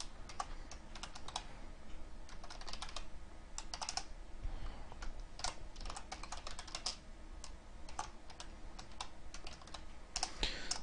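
Rapid, steady typing on a computer keyboard while coding, a close, continuous patter of key clicks with no voices.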